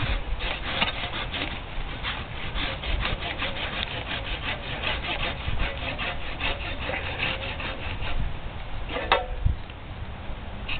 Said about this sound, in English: the second cut is again just rootstock, this whole huge chunk of wood